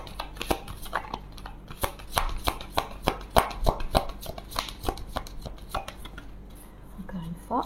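Tarot cards being shuffled for a thirteen-card draw, a steady run of crisp riffling slaps and snaps that sounds fairly close and stands alone with no talking.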